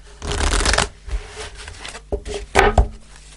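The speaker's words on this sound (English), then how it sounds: "let's pull a spirit message card before" Tarot cards being shuffled by hand, a dense papery riffling burst followed by a few shorter card flicks and taps, close and clear with no talking.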